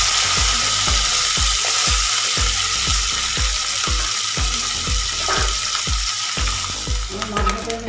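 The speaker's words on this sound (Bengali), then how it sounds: "আমি মাছটা ভেজে নিচ্ছি। মাছটা ভেজে নিচ্ছি, পুঁটি মাছটা।" Small puti fish, salted and rubbed with turmeric, sizzle and crackle in hot oil, with a steady frying hiss broken by regular low thumps of a spatula or stirring about once every half second, close and loud.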